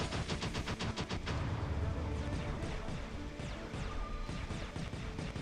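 A Behemoth war robot's weapon fires in a video game: a rapid volley of sharp cracking impacts at the start, followed by dense, sustained crashing and rumbling blasts that stay loud and close.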